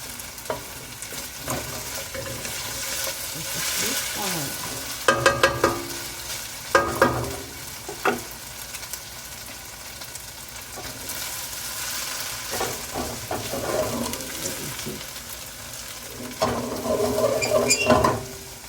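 Chicken pieces fry in a pan for black pepper chicken, giving a steady close sizzle with louder bursts of crackle and clatter as they are stirred.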